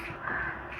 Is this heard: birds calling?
yes